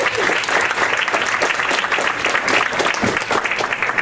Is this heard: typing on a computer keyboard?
no